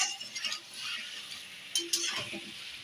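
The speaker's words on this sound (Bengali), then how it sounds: "দেখো চিকেনটা রান্না হচ্ছে, কষাচ্ছি খুব ভালো করে।" Chicken stir-fried in a pan with very little oil, a spatula scraping and clinking against the metal over a soft sizzle, with a few sharper clinks toward the end.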